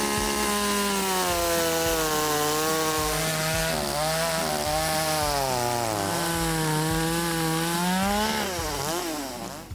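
A Ryobi two-stroke petrol chainsaw with a heavy-duty chain and long bar runs loud and steady, its engine pitch rising and falling as it bites into wood, with no pauses across the whole stretch.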